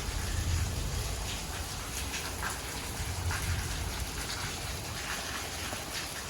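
Heavy rain pours down steadily over an open farm field, a dense, even hiss of drops with no breaks and no voices.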